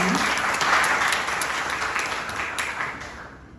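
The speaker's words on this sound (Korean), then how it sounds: "모두 박수로 맞이해주세요" An audience at a school admissions briefing gives a warm burst of applause to welcome a speaker: steady massed clapping that is loud at first and then gradually fades over a few seconds.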